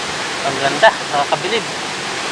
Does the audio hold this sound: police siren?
no